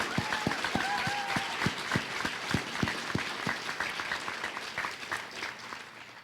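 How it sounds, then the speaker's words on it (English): Audience applause at a high school senior awards night, a steady wash of many hands clapping in a large room with sharper nearby claps standing out, gradually thinning toward the end. "So let's give our counseling department a round of applause."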